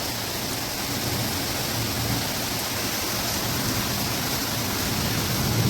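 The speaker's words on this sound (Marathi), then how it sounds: "गडगडते बघा किती आणि पाऊस बापरे थंड झालं एकदम वातावरण" Heavy rain pours down in a steady, dense roar that stays close and even throughout, with no clear thunder rumble standing out above it.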